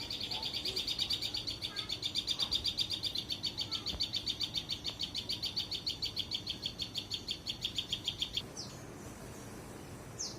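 A tailorbird gives a fast, steady run of sharp, high chirps close by, repeated rhythmically for about eight seconds before stopping, with faint outdoor ambience underneath.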